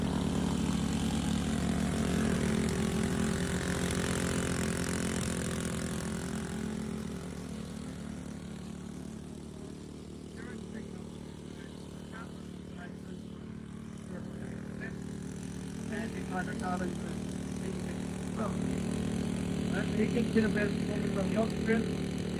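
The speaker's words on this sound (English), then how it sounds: "So we'll just start the engines up, and we'll show you what happens." Aircraft-style propeller engines spin up during an outdoor thunderstorm generator demonstration, a steady droning roar that eases slightly midway and then builds again, with faint voices underneath.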